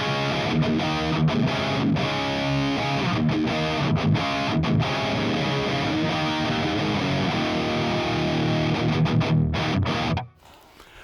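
Electric guitar played through a Two Notes Cab M+ cabinet simulator with reverb turned down, a loud, continuous distorted riff with dense chords and short rhythmic breaks, stopping abruptly near the end with no talking.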